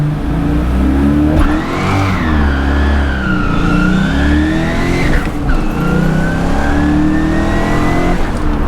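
A 1990 Ford Mustang track car with suspension upgrades and power adders accelerates hard, its engine loud and close, rising in pitch through several gear changes with brief dips between pulls.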